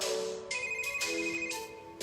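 A phone ringtone built into a workout song chirps in repeated short bursts, fairly quiet and electronic, with no voices over it.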